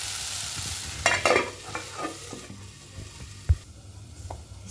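Jackfruit curry fries in a pan, a sizzle stirred with scraping and clattering strokes, busiest in the first two seconds, then quieter frying broken by a sharp knock near the end.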